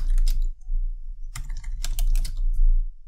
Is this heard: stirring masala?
no